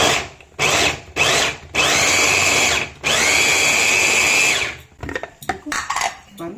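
A handheld electric vegetable chopper cuts vegetables in a kitchen in several loud, close bursts of whirring motor noise separated by short pauses, ending in a scatter of shorter clattering pulses.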